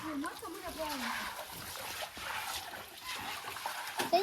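Cold water gushing out and splashing in a constant, rushing stream, with people talking over it nearby.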